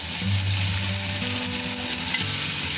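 Onions with ginger garlic paste frying in a pan for biryani, a close, steady sizzle running under low stove hum, with no voices.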